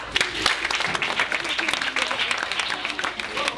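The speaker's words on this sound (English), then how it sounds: "Clap for him." Audience applause at a 2019 World Polio Day event: dense, steady clapping from many hands fills the whole stretch at even loudness, with a murmur of voices mixed underneath.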